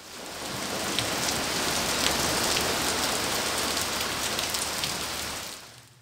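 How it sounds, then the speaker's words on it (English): Steady rain falls at a Maldives island resort, a dense even hiss of drops on surfaces that holds constant for several seconds before easing off at the end. "And one day it rained."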